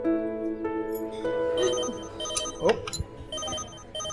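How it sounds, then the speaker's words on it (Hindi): A telephone rings with a melodic electronic tone during a home scene in a Pakistani TV drama, fairly close and steady for about four seconds, with faint room noise and a few soft knocks. "बाबा का फोन आ रहा है भाई"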